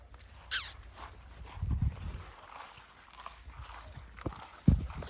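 A mare's hooves clop slowly on hard ground, a few uneven steps with quiet rustling and a faint outdoor hush around them, as she is unloaded with her young foal.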